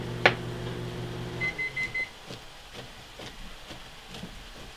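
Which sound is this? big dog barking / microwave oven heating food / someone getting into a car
microwave oven heating food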